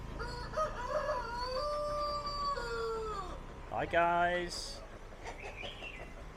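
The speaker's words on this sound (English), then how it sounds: "There's the chickens and the ducks." A rooster crows with a long, wavering call over market bustle in Lao Cai, Vietnam, followed by squawking chickens and ducks; a voice briefly speaks.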